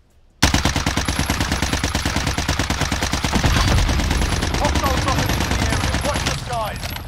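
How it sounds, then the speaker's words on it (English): A C58 rifle in Call of Duty: Warzone fires a long continuous automatic burst during a recoil test, rapid loud cracks in an even rhythm lasting several seconds before stopping. "Let's see if we can get it shooting kind of straight."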